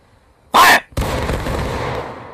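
A musket volley in the War of Rights video game, a single loud crack of many rifles at once, followed after a short gap by a sustained rolling roar and echo of gunfire.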